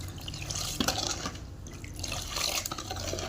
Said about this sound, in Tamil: நல்லா கலக்கிட்டு மறுபடியும் நம்ம தண்ணி ஊற்றிக்கலாம்